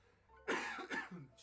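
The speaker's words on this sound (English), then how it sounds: "I'm going to cough." One person coughs close to the microphone in two or three quick, breathy bursts, faint overall against a quiet background.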